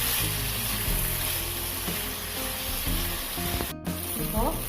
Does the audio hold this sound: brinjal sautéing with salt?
yes